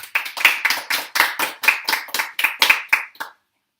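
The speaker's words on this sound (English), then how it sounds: "a round of applause is deserving for the work of both Lalita and Caroline" Guests at a staged wedding ceremony clap in a small, distinct group, about a dozen crisp, evenly spaced beats ringing close and clear before stopping abruptly.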